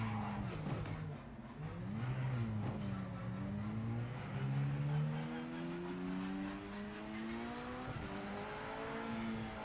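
Standard BMW racing in Project Motor Racing, engine note climbing and shifting through gears with rising and falling pitch sweeps, steady and continuous with light tire noise, no talk.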